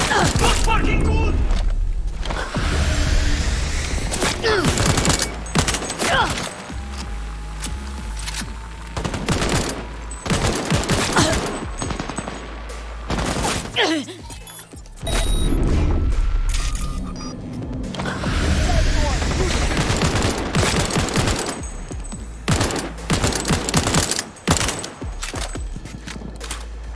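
Gunfire from the video game Cyberpunk 2077, dense bursts of shots and fusillades crackling loudly throughout a long firefight, with speech mixed in over the shooting.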